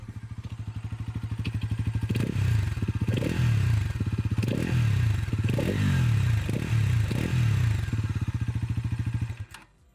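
Close-up exhaust note of a Bajaj Pulsar NS400Z with a new 349cc engine: a steady thumping idle broken by several sharp blips of revving that rise and fall, then the engine cuts off at the end.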